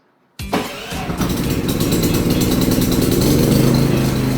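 A Philking PK4200 inverter silent generator starts automatically: a sharp start-up catch, then the engine settles into a loud, steady, close idle hum.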